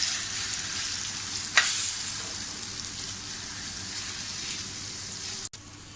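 Besan chilla batter frying in hot oil in a pan, a soft steady sizzle with one brief crackle near the start and a sharp click later.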